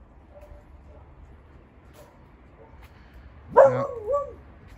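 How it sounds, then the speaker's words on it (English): Quiet background, then a single dog gives a couple of short barks from a little distance. "Thank you very much, dog, for barking away."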